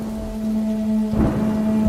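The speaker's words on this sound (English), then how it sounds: "suddenly there was a loud clap of thunder with lightning, and it started raining heavily" Heavy rain pours steadily under a low, sustained hum, and a deep rumble of thunder swells briefly near the end.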